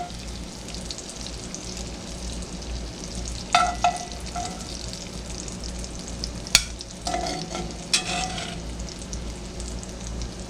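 Steak and onions sizzle steadily in an old cast iron pan, a continuous close hiss with a few sharper crackles and scraping clinks as the onions are moved around.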